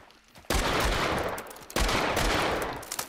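Gunfire in Hunt: Showdown, two sharp, loud shots about a second apart, each leaving a long rumbling echo that slowly fades.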